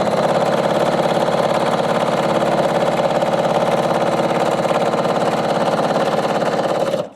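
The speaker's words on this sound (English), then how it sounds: "Now all the sewing for 4 half square triangles is done." Sewing machine stitching quilt pieces for half square triangles, a steady, continuous mechanical whir at close range that runs without pause for about seven seconds before stopping abruptly.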